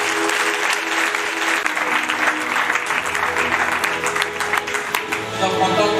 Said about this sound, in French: Est-ce que tu peux acclamer le Saint-Esprit?